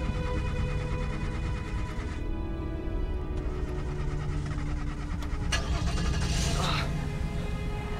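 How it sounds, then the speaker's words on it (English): A car engine cranks and turns over in a late-night driving horror video game, the steady mechanical drone running throughout with a brief change in tone midway and no talking over it. "we're gonna go ahead and try to start the car."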